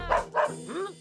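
Cartoon dog barking in a children's animated show: two sharp, loud barks close together, followed by a rising and falling whine-like yelp, all near and with no talk over them.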